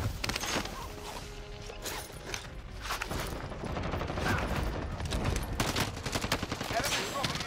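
Gunfire in the video game Call of Duty Warzone Plunder, rapid volleys of shots and crackling bursts through most of the stretch, with voices talking over the action.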